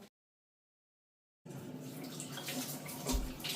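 Water runs from a household tap in a London home, with a steady close hissing splash that starts abruptly after a stretch of silence and continues without a break.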